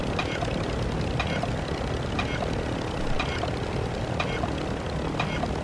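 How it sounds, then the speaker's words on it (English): A helicopter in a video game flies with a continuous engine drone and rhythmic rotor beats repeating roughly once a second, steady and fairly close throughout. "This is why you should always pay attention when flying a helicopter"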